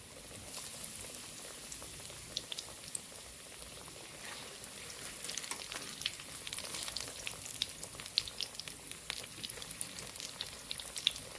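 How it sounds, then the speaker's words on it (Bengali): Flattened rice cutlets shallow-fry in a pan, giving a soft, steady sizzle with scattered small pops and crackles throughout, faint and without any talking. "দেখুন আমরা কীভাবে উল্টে পাল্টে ভেজে নিচ্ছি।"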